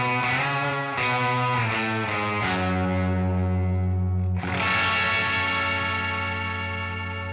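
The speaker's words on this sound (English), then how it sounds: "This starts off with an octaver doing an octave up, a uni vibe." Thick, heavily processed electric guitar through an octave-up octaver and uni-vibe, warbling, swirling modulation and a doubled higher octave, sustained chords ringing loud with no talking.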